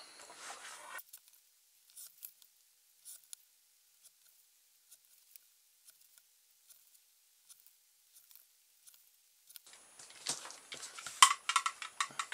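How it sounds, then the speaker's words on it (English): Scissors snip out parts for a small balloon- or rubber-band-powered model car, giving sparse, quiet, crisp cuts spaced a second or so apart, then a faster flurry of snips and rustling at the end. "do some cutting out."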